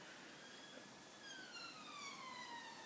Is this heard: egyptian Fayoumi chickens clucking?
no